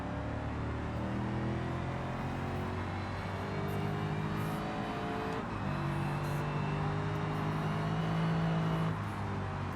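A V8 sports car engine in a video game drones and revs, a steady harmonic growl whose pitch rises and falls through gear changes, loud and continuous with no talking.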